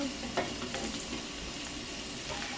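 A flipped egg frying in a pan, steady close sizzling and crackling with a faint scrape of a spatula near the start, quiet but continuous and alone.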